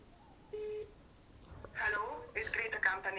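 A phone call is being dialled, with a short steady keypad tone early on and then a voice talking over further tones and line sounds.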